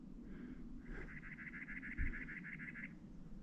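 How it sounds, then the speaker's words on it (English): A bird sings faint and far off in the desert Cholla Cactus Garden at Joshua Tree National Park, giving one long, rapid trill over quiet outdoor air. "I still hear that bird out there somewhere."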